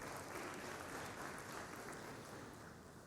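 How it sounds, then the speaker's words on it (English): An audience at an HR leadership summit gives a steady, faint round of applause that fills the whole stretch without any talking over it. "So please give yourselves a round of applause."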